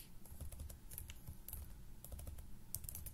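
Quiet, close typing on a computer keyboard, with rapid irregular key clicks and brief pauses between bursts, and no voices over it.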